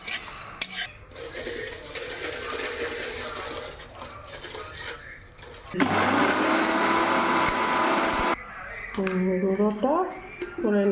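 Roasted spices including fennel being ground to powder in an electric grinder, a loud whirring burst in the middle, with clattering of kitchenware before it and a voice speaking at the end.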